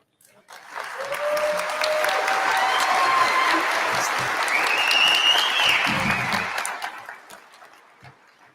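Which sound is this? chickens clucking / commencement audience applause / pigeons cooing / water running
commencement audience applause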